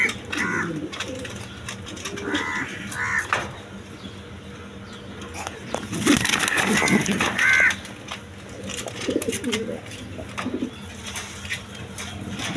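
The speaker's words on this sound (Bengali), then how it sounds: "দর্শক এখানে এক পেয়ার মুন্ডিয়ান কবুতর আছে দেখেন" A pair of large Mundian pigeons cooing and calling in several short bursts over a steady busy background hum, with other bird calls mixed in.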